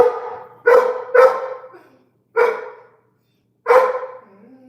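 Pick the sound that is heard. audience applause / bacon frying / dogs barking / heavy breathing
dogs barking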